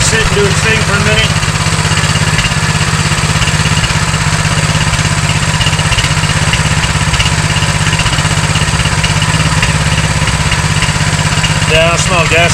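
A Coleman BT200x mini bike engine idles after possible flooding, running with a steady, loud, low chugging drone throughout, close to the listener, while people talk over it at times.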